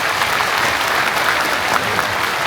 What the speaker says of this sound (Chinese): 感谢大家的掌声。